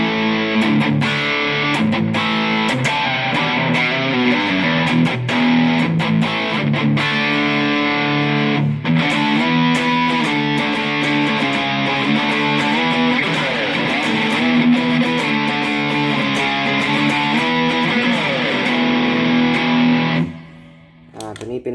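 Heavily distorted electric guitar power chords played through a TANK G multi-effects unit, loud and thick, strummed chords ringing continuously for about twenty seconds before cutting off abruptly.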